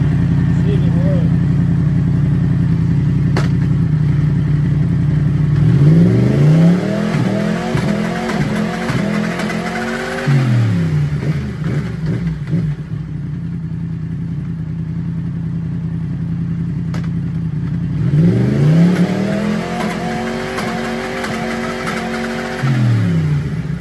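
A 2016 Yamaha MT-10 motorcycle with a retrofitted quickshifter idles loudly up close, its engine swept up into two long revs that climb and fall back to idle.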